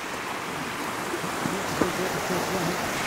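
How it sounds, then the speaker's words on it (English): A river running across a footpath in France, steady rushing water filling the background while a person talks faintly over it. "There's an actual river across the path."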